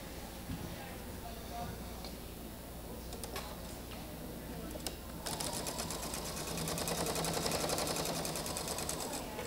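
Sewing machine stitching a quilt hums in a continuous mechanical drone, shifting into a brighter, faster rattling run partway through, with a voice talking over it.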